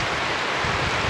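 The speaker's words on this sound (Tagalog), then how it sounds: "At bumuhos na naman yung malakas na ulan." Heavy rain pouring down during a storm, a dense, steady hiss of falling water filling the short stretch with no pauses and no voices.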